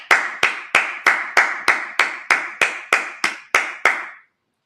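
A congregation at a Sabbath service claps together in a steady, even rhythm of about a dozen crisp, loud claps at a moderate tempo, then stops abruptly, with no talking over it.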